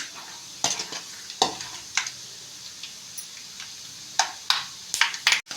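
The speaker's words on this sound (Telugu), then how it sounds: "ఇలా బాగా ఎర్రగేంత వరకు వేయించుకొని పక్కకు పెట్టుకోవాలి" Ingredients frying in hot oil until reddish, with a faint sizzle under scattered spoon scrapes and light clinks, close up, a cluster of quick strokes near the end.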